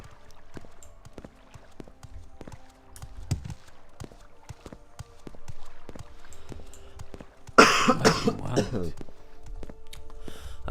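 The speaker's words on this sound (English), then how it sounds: "I want to stop coughing." A burst of harsh coughing from someone with a cold rings out close and loud near the middle, with quiet clicks and faint game sounds from Morrowind before and after.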